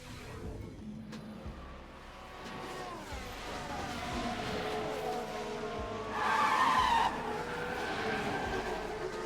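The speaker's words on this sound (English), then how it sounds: "Oh, we've had a crash." Simulated Formula 1 race car in F1 Manager 2023 during a crash on the Mexico circuit, a steady engine drone with squealing, skidding tires rising toward the end, moderately loud and without talk.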